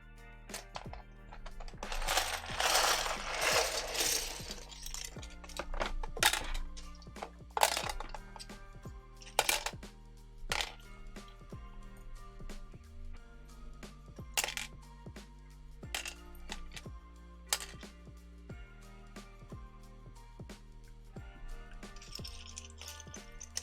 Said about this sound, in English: I'll put the rest of the keycaps on